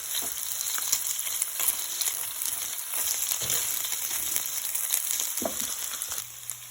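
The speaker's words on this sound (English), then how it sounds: "Now I'm going to fry up my sausages." Sausages sizzle and crackle steadily in a hot pan, with continuous frying noise and occasional sharper pops.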